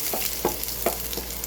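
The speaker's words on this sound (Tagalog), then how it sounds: "So mainit na yung mantika, ilalagay na yung bawang." Garlic dropped into hot cooking oil in a pan, stirred with a few quick scraping strokes over a soft steady sizzle, close and without talk.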